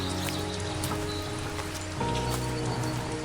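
Rain falls steadily through a forest, a dense, even patter that stays constant throughout, with a sustained tonal layer like background music underneath.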